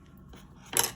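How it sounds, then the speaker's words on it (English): Scissors snip through knitting yarn while a ribbed hat is being finished, a single quiet, close cut at the very end of a short, otherwise near-silent moment. "Cut my yarn off."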